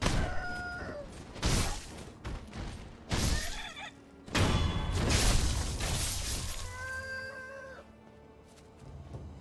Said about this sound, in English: Is that a chicken? The giant rooster?